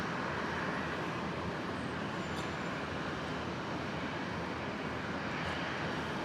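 Airliner arriving on runway 01 right at Brisbane Airport, a steady broad jet roar heard from a distance that holds evenly throughout, with no voices.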